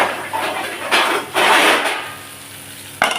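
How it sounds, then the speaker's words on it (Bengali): Lid set onto a cooking pot over frying onions, a few clattering metal knocks and scrapes with a sizzling wash, ending in a sharp clunk as it settles. "এবার একটু ঢাকা দিয়ে দেবো।"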